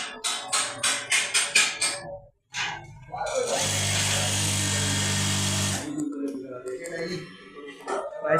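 A sewing machine stitches in a rapid, steady mechanical run for about two seconds mid-clip, after a few sharp knocks, with someone talking before and after.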